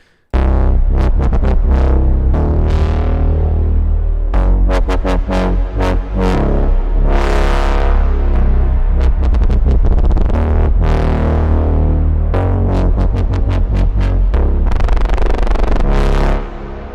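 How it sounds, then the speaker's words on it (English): A loud, gritty synth wobble pulses in rapid rhythmic bursts, its distorted tone swirling and sweeping with a phaser effect as the pattern shifts and stutters. "there's a phaser and some distortion on there"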